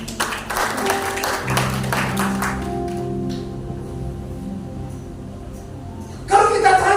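A church congregation applauding during a worship service, brief clapping that fades under sustained organ-like tones, then a loud voice cuts in at the end.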